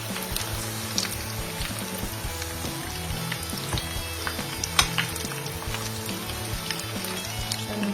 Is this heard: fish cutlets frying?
yes